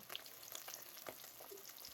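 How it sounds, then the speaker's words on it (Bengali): Two pieces of rui fish fry in hot oil with a soft, steady sizzle and fine crackling, quiet and close, with no talking. "এই দুটো এখনো ভাজা হচ্ছে, এই দুটো হয়ে গেলে তুলে নেব।"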